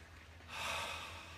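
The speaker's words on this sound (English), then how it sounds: "That breath was deep through my nose all the way to the pit of the stomach" A deep inhale drawn in through the nose during a guided breathing exercise, a single breath that swells from quiet to a steady, airy rush halfway through and holds, close and fairly soft over a low background hum.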